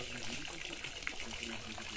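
A small hose bubbles water to oxygenate a fish pond, producing a steady wash of trickling, gurgling water outdoors with faint murmurs behind it.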